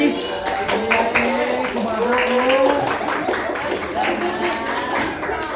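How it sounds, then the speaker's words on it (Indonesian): A school class claps for a student during an Indonesian-language lesson on observation report texts, a scattered round of hand claps mixed with children's voices and chatter throughout. "Dan tepuk tangan buat Rapi."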